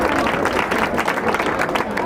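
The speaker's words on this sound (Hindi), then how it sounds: "जिनके लिए जोरदार तालियां" An audience at a school inauguration ceremony claps in loud, continuous applause, a dense crackle of many hands at close range mixed with crowd murmur.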